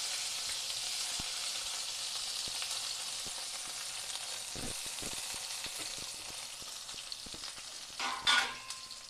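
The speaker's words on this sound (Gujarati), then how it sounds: "મિત્રો તેલ ગરમ થઈ ગયું છે રાઈ ફાટી ગઈ હવે મેં લાખવાની લીલા કાંડા" Green onion stalks frying in hot oil with popped mustard seeds, a faint continuous sizzle with scattered small crackles and a brief louder burst of stirring near the end, no voices.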